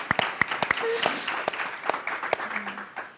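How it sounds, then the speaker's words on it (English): Scattered clapping from a small crowd, irregular individual claps rather than a full roar, with faint voices murmuring underneath. "One more round of applause"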